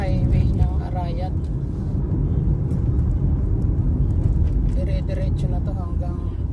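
A car drives along the highway toward Mount Arayat in the Philippines, with a steady, loud road-and-engine rumble throughout and voices talking over it at the start and near the end.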